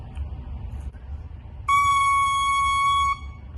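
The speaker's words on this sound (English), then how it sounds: "The double reed is two pieces of cane tied together, and when you blow into it, the two pieces of cane vibrate together to make a sound." A bare oboe double reed of two tied cane blades, blown alone, gives a loud, steady buzzing squawk held for about one and a half seconds, with a quiet room before it.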